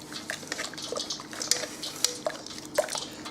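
Fish pieces being stirred through a thin, light beer batter in a bowl make soft wet slaps and drips, with small clinks against the bowl, close and quiet.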